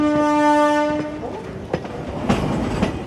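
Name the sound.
train approaching and passing with horn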